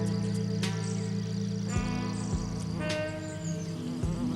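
Wasps buzz steadily around bee orchid flowers, a continuous close insect drone with wingbeat whine rising and falling as they fly past, no voices.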